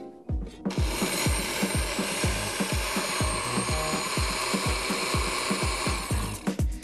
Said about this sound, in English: I want to get this into the blender, and you want to make sure you get a little bit of liquid in there so it gives it something to buzz